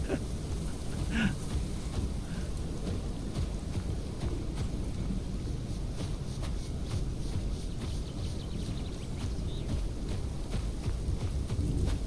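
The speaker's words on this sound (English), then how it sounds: "The rain's dying down anyway, too, so." Steady rain with low rumbling thunder in the dinosaur survival game Path of Titans, a continuous dense wash of falling drops and a distant roll throughout, with no talking.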